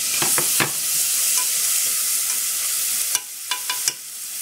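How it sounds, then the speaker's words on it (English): Vegetables including tomato sauté in a pan, a continuous bright sizzle punctuated by a few sharp scraping stirs and clicks, near and without voices. "I'm just going to saute everything so it's nice and soft"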